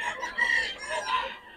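Chickens and roosters at a fowl seller's place, close, loud crowing and clucking in quick overlapping calls across the short stretch, with no talk.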